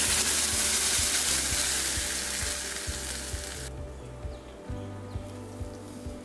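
Garlic and ground tomato paste sauté in a pan for a Tamil-style spicy tomato chutney. The sizzle is steady and loud and drops suddenly partway through, leaving a softer frying hiss with occasional stirring clicks and no talk.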